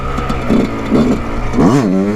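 A Yamaha YZ 125 two-stroke dirt bike revs in short bursts, with three quick rising and falling blips of its engine close by.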